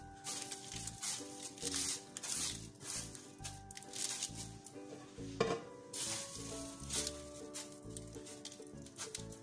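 Homemade feuilletine browns in a pan with a steady crackling sizzle, broken by occasional scraping and stirring, close and moderately loud, with no voices.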